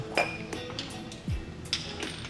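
Distributor cap and rotor being removed from a VW Beetle distributor, giving a few light metallic clinks and taps spaced across a short span, close and fairly quiet.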